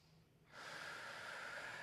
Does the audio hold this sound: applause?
no